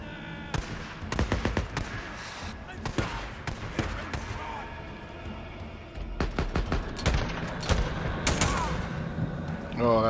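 Rapid bursts of gunfire from the video game Days Gone, loud and repeated in clusters of sharp shots, with a brief lull midway before another heavy volley.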